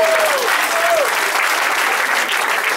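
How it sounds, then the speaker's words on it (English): Audience applause at a school awards evening, a loud dense wash of clapping that holds steady throughout, with no voices over it. "So please give them a round of applause."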